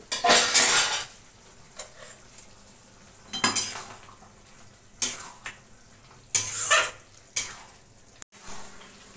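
A utensil scraping and clattering against a pan while potatoes and poppy seed paste are stirred and sautéed, several bursts of metallic scraping separated by short pauses, close and loud, no talking.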